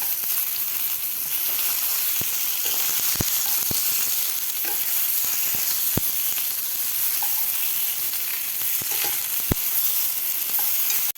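Tomato and raw mango pieces fry in a pan while being flipped for a chutney: a steady, even sizzle, punctuated by sharp clicks and taps of the spatula at irregular intervals.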